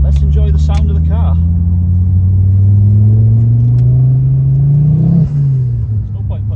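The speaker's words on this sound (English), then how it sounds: "let's enjoy the sound of the car." Modified 480 bhp Ford Focus ST engine, loud and close, a deep steady drone that climbs as the car accelerates before easing off near the end, with a brief voice at the start.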